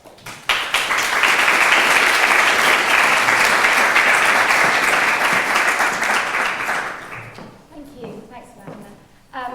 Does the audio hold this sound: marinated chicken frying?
no